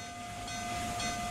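In a Roblox RO-Scale Sandbox railway game, a Reading T1 train rolls with a continuous rumbling hum and a steady tonal whine, building slightly louder toward the end, with no voices.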